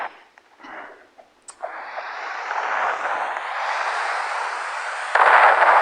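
Bombs going off in a Roblox sky wars match, a sharp blast followed by a long, loud rushing roar that swells again near the end, with no talk over it.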